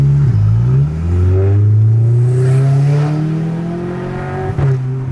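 A 2.0 turbo car revs and accelerates up close, its engine note climbing steadily in pitch over several seconds with a brief dip near the end, loud and continuous with no talk over it.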